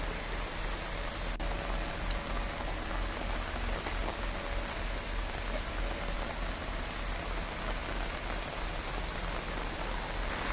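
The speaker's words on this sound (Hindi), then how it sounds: "पहाड़ों पर मूसलाधार बारिश हो रही है।" Heavy downpour in the mountains, a steady, dense hiss of rain falling hard and unbroken throughout, loud and close with no voices.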